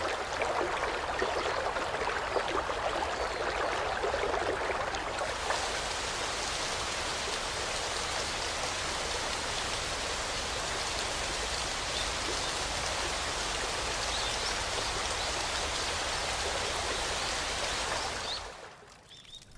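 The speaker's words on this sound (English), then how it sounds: "The cold mountain water spreads over the dry fields." Cold mountain water flowing and spreading over dry rice fields in a Japanese satoyama landscape, a steady, dense wash of rushing water that holds constant for the whole stretch before fading away at the end.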